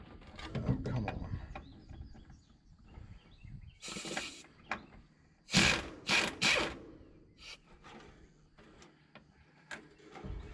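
An air impact wrench works on a C10 steering column in a garage, firing several short loud rattling bursts amid clanks and handling noise, with no clear talking.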